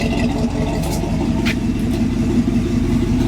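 A 1966 Chevy truck engine idles steadily up close, a loud, even low-pitched rumble that holds without a break and with no voices over it.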